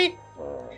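A cat in The Sims video game lets out a single short, close meow.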